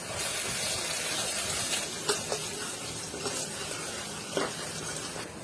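Garlic ginger paste sizzles in a pan while being sautéed for pav bhaji, giving a steady, soft hiss. Faint clicks and taps of stirring break through now and then.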